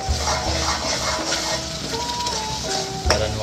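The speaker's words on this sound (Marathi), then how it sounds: "आणि मिक्स करून घेऊया." Ground masala paste stirred and sautéed in a hot pan, giving a steady loud sizzle with scraping spoon strokes throughout, alone with no voices.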